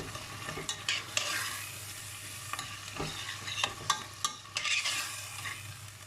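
Beef mince and bolognese sauce are stirred in a frying pan, a soft continuous sizzle broken by irregular scraping strokes of the spoon, close and fairly quiet with no talking.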